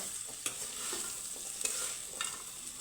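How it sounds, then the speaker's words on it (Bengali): Jackfruit seeds coated in gram flour fry in a pan, giving a steady soft sizzle with a few sharp stirring scrapes spaced about a second apart, close by and with no talking. "তো বেসনের সাথে এইভাবে এখন কাঁঠাল বিচিগুলো ভেজে নেব"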